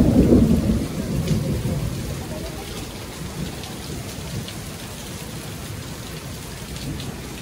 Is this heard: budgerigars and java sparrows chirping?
no